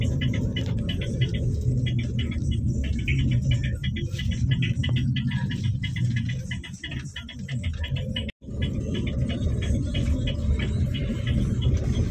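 A Mercedes-Benz 1626 bus with a Trisakti body rumbles along with a steady, loud low engine drone and road noise. The sound is heard from close by and cuts out abruptly for a moment near the end.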